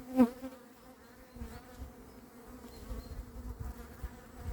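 Leftover honeybees from a captured swarm hum and buzz softly around a cardboard box, a quiet steady drone with a sharper close buzz at the start.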